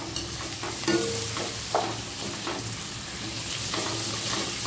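Sliced tomatoes with ginger and garlic frying in a pan over a high-to-medium flame, a steady close sizzle broken by a few sharp scrapes and clicks of stirring.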